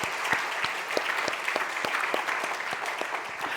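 A church congregation claps together in steady, even applause, a dense patter of many hands held at a constant level throughout, with no voices above it.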